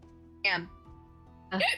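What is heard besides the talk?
hiccup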